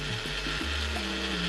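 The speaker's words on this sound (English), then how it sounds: "We need to grind this now." A short burst of grinding as roasted red chili and coriander are blended with coconut, a steady mechanical whir with a few uneven knocks, close and fairly quiet.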